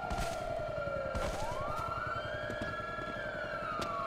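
Police sirens wail continuously in the game Dept. of Justice Cops during a prison break, several rising and falling tones overlapping at close range, loud and steady throughout with no talking.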